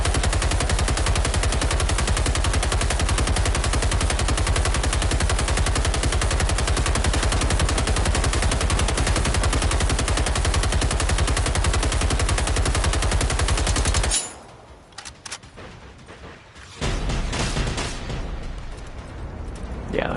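Automatic gunfire from the video game Generation Zero rattles in a loud, rapid stream for about fourteen seconds, then cuts off and leaves quieter scattered sounds.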